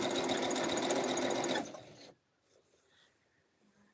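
A sewing machine stitching borders onto a quilt runs in a loud, fast mechanical chatter up close for about a second and a half, then winds down and stops, leaving quiet with faint small noises.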